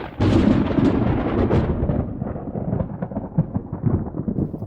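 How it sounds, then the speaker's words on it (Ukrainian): Loud, close thunder from a thunderstorm erupts in a deep rolling boom that slowly fades into a long, rumbling tail. "А гроза що робить? Вірно, гримить, блискає"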